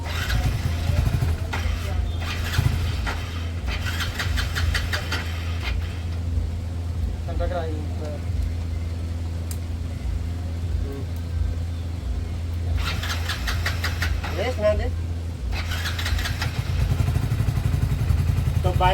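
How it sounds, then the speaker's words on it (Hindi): A Hero HF Deluxe BS6 motorcycle with a discharged battery, started on the self-starter, idles in a steady low engine putter and rumble, with repeated bursts of clattering mechanical noise on top throughout. "तो बाइक हमारी स्टार्ट हो चुकी है सेल्फ से"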